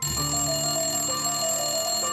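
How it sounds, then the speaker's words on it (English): Telephone ringing effect with a steady electronic ringtone, sustained tonal rings across the whole stretch, loud and close with no voices. "literally dialing you up and ringing"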